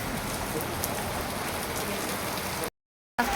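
Steady rain pours down in a dense, even hiss, breaking off in a brief silence near the end.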